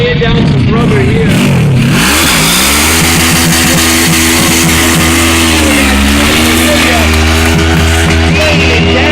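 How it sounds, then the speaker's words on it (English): A fast motorcycle does a burnout during a stunt show at a local dealership, its engine revving hard and then holding a loud, sustained wail with shifting pitch, very close and dominant. "Laying down some rubber here."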